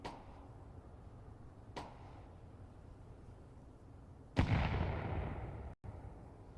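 Grenade blast and gunfire in a Counter-Strike match, a sudden heavy explosion with a long decaying roar over steady game noise, preceded by a couple of sharp cracks.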